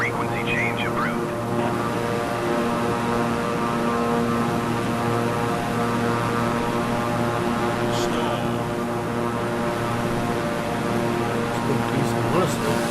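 A Beechcraft propeller aircraft in Microsoft Flight Simulator 2020, a steady droning engine hum with strong tonal whine throughout, with a few faint brief sounds near the start.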